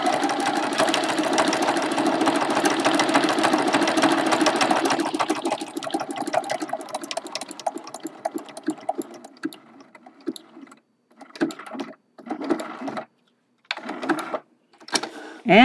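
A sewing machine stitches a quilted watering-can mug rug, running in a fast continuous whir at first, then breaking into short start-stop bursts separated by silences.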